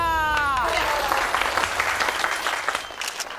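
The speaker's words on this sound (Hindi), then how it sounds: "तालियां" Group applause in a comedy scene with police officers, opening over a sliding musical tone, then broad clapping that stays fairly loud and steady before tapering slightly.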